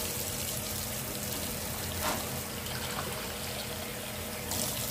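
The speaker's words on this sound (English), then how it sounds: "So next I'm going to add some water." Water poured from a one-cup measuring cup into a crockpot while chicken thighs cook, a soft steady trickle heard up close and fairly quiet against a low room hum.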